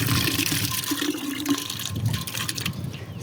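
Water runs steadily from a garden hose into a deep planter, a continuous rushing and splashing wash with faint gurgles, fairly close and alone with no talk.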